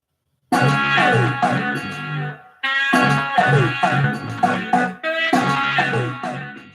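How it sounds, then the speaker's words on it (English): A recorded music beat plays loud and close, with rhythmic repeating bars, a brief gap, and then the same busy pattern starting again. "And the beat sounds like this."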